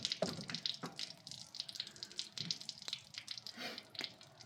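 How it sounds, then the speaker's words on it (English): Water drains from an RV's fresh water tank, trickling and splashing in irregular spurts with occasional drips, fairly quiet and close. "We got the fresh water tank that's still draining."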